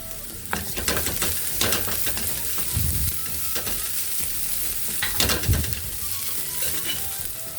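Ginger stirred in a hot pan with crab-dish seasonings, loud steady sizzling under rhythmic scraping strokes of a spatula across the pan, close and continuous.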